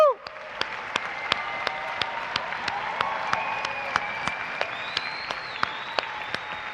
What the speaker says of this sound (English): the final round of applause